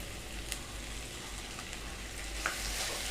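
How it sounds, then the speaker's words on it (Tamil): Chopped tomatoes sautéing with browned onions for a South Indian mushroom gravy, giving a soft continuous sizzle with a few faint stirring taps, and no voices. "நம்ம கட் பண்ணி வச்சுருக்கிற தக்காளியும் போட்டுக்கலாம்"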